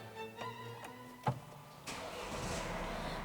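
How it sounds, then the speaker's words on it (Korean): A 2016 Mercedes-Benz E220 BlueTEC diesel with about 82,000 km cranks and fires up after a few soft dash chimes, settling into a steady low clattering idle up close. "아마 이 시동 거는 소리가 잘 유입이 됐을 것 같습니다."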